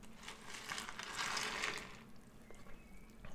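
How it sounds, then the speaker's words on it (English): Milk pouring into a bowl of cocoa lentil-based cereal puffs, a steady liquid splash that swells in the middle and then eases off into quieter trickling, close and with no talking. "And then pour in the milk."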